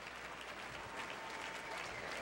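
Steady crowd applause at a boxing bout after Steven Wilcox's fight, an even, dense patter of many hands holding at one level.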